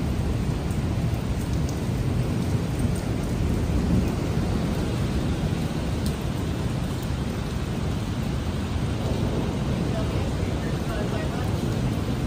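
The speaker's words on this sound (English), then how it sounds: "That's just how much lightning is happening." Torrential rain pours during a thunderstorm over the Dubai skyline: a loud, steady broadband roar of downpour fills the whole stretch, with thunder rumbling low underneath and no clear breaks.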